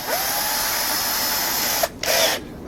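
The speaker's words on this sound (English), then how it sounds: "we're going to drill the screw out" A power drill drilling out a screw on a Flymo Vision Compact 350 mower, a steady loud high whine running almost continuously, briefly cutting out near the end before spinning up again.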